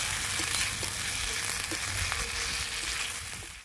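Spice paste and chili powder stirred in a hot frying pan, giving a steady, close sizzle throughout with faint scraping of the spoon underneath, fading slightly toward the end.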